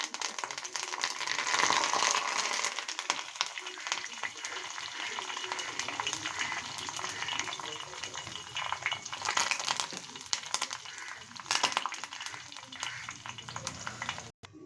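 Curry leaf sprigs dropped into hot oil for homemade bhringraj hair oil, a loud, continuous crackling sizzle with busy spattering that holds steady throughout.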